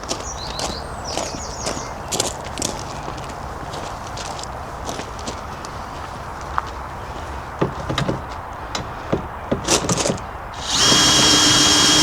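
A power drill whirs steadily near the end as it winds down the back legs of a caravan, after scattered clicks and handling knocks against quiet background noise.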